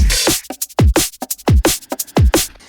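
A punchy, dry, unprocessed drum and bass drum loop with hard kicks and crisp snares in a fast breakbeat rhythm, loud and close.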